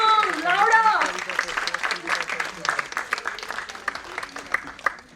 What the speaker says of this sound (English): Come on, everyone. Let's cheer along, louder.